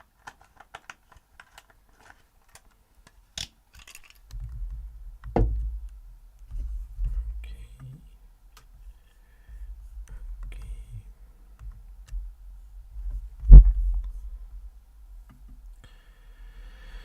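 A few sparse key clicks on a computer keyboard as a book title is typed, followed by soft thumps and one sharp tap, quiet and close in a mostly silent room.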